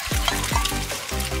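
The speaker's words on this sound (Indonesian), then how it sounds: "Selanjutnya tuang ke wajan." Pancake batter hits a hot frying pan with a loud, continuous sizzle and crackle, marked by a few swooping pours or scrapes, with no talking.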